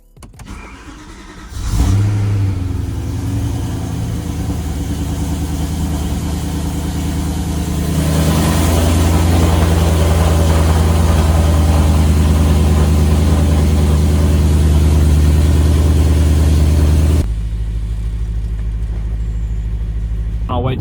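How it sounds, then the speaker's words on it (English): The BMW S65 engine of an E90 M3 cranks and fires, settles into a loud idle, then holds a higher, steady warm-up idle before dropping back. "Got to let the old S65 warm up here."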